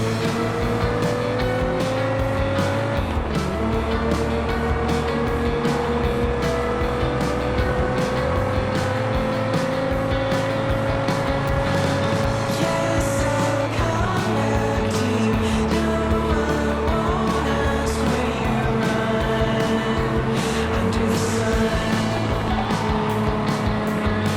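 A race car in the Gear.Club street racing video game runs a time trial, its engine droning loudly and continuously through repeated gear shifts, with occasional tire squeal over a steady roar.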